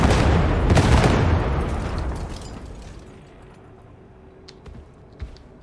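Grenade launcher in the Darktide video game, a heavy booming explosion with a long rumbling tail that fades away, followed by a few faint pops and clicks.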